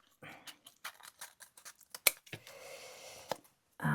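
Paper edges being trimmed with scissors for a handmade mini journal, a run of short close snips and crisp paper rustles, with a brief sharper cut partway through.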